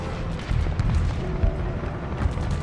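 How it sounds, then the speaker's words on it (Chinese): Intense battlefield gunfire in a Sino-Japanese war action film, a dense, continuous roar of shots and low booms at moderate loudness with no talk over it. "可这么激烈的枪声一定是他们的主力部队。"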